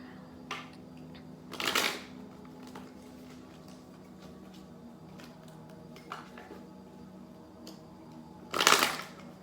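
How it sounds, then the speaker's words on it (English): Tarot cards shuffled in hand at close range, two brief bursts of riffling about seven seconds apart over soft scattered taps and handling noise in a quiet room. "I'm going to shuffle only one more time."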